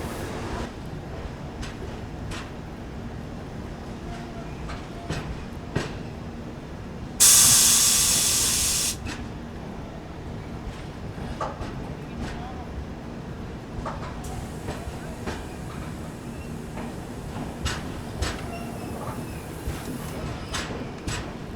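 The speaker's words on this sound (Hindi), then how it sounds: "तो फाइनली डिपार्चर स्टार्ट हो गया हमारा गोंडा जंक्शन से।" Garib Rath Express pulling out of Gonda Junction, with a steady rumble of wheels on rail, a sharp burst of hissing air from the brakes partway through, and faint rattling carriage noise throughout.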